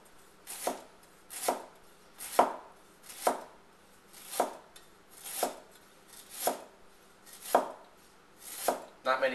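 A knife slices peeled ginger very thin on a cutting board, about nine evenly spaced crisp cuts, each a short rasping stroke ending in a board tap, close and clear.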